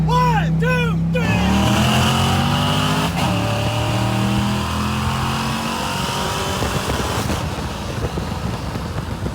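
A race car accelerates hard in a heated match-up, the engine note climbing through rising revs with a squeal of tires, loud and close, then fading into a rougher rumble as it pulls away.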